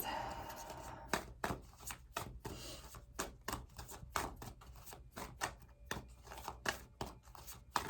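Oracle cards being shuffled by hand at close range: a quick run of crisp, papery riffles and taps repeating in an irregular rhythm, fairly quiet, with faint room hum between them.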